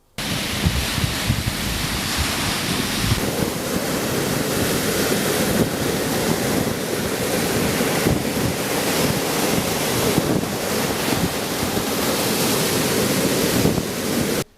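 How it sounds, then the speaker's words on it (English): Atlantic Ocean waves break continuously on the shore at Badagry, a loud, steady surf roar with wind buffeting the microphone and no pauses. "A few meters away, the Atlantic was making a noise of his presence."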